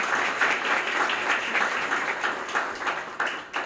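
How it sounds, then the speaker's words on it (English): A room of people at a high school alumni awards ceremony claps steadily for a few seconds, a dense, lively patter with no voices over it. "Give applause"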